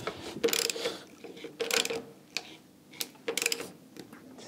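A bolt being tightened with a ratchet wrench on a wooden beam in an old tower room under restoration: several short bursts of quick ratcheting clicks with pauses between, close and fairly quiet.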